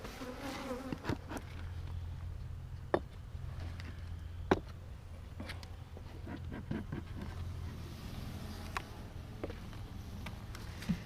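Bees buzzing steadily near and far, a low continuous drone with occasional faint clicks and knocks, no voices.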